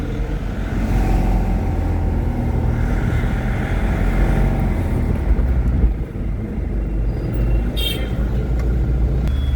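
A car drives along a road toward a junction with a traffic signal, a steady close engine drone and road rumble with passing traffic noise, and a brief higher squeak or horn-like tone near the end.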